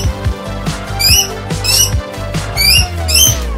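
A pet bird squawks loudly and repeatedly in shrill rising bursts, about four or five calls over a steady thumping music beat.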